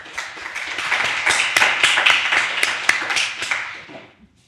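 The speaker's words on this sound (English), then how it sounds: "Round of applause." Live audience at a startup pitch event gives a round of applause, a dense wash of many hands clapping with sharp individual claps standing out, steady for several seconds before tapering off to silence.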